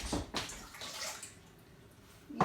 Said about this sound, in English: we need 1 cup of warm water, so that's half hot and half cold, into a bowl with about 10 grams of yeast